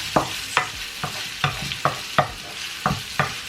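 Onions stir-fry in a little oil in a pan while cooking beef chao fan, with a soft sizzle under a regular series of sharp spatula scrapes and clacks, close and clear.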